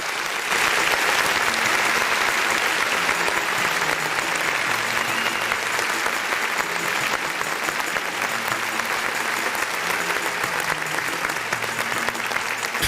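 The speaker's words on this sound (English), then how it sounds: "Round of applause." A round of applause opens a live show episode: dense, sustained clapping from a crowd that stays loud and even for the whole stretch, with no voices over it.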